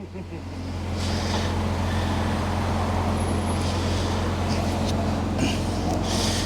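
An early MG ZT's engine and exhaust give a steady, droning rumble at constant loudness throughout, heard from close by with no talk over it.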